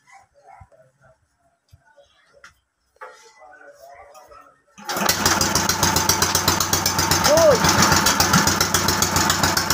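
After some quiet voices, a small engine abruptly starts up and settles into a loud, steady rattling idle, with a dog barking once over it.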